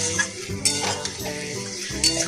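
Marinated masala being fried and stirred in a pan, a bright sizzle under clanking scrapes of a metal utensil against the pan in an irregular rhythm, close and fairly loud, with no speech.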